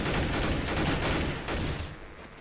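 Sustained gunfire from a CS:GO match: a dense, continuous rattle of overlapping shots that stays loud throughout, easing slightly near the end, with no talking.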